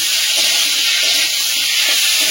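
Potatoes and Malabar spinach with turmeric frying in a pan, a steady, loud sizzling hiss that continues without a break.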